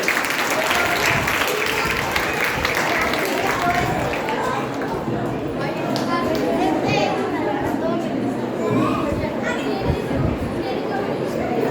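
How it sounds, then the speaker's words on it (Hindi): An indoor audience at a gathering applauds steadily and loudly for several seconds, with chatter and children's voices mixed into the clapping. "अपने लिए ताली बजाएं"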